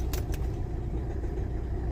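A car engine is started: two quick key-like clicks come first, then a low, steady engine rumble carries on close by.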